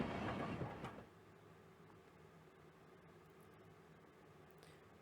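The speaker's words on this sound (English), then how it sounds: "It seemed the train had reached its final stop." A train arrives at its final stop in a video game, a loud hiss of braking or air release for about a second, then a quieter steady rumble continues.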